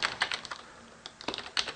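Short bursts of typing on a computer keyboard, a few quick clustered key clicks and taps, close and quiet, with gaps between the groups.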